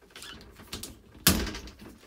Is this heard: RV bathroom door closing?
yes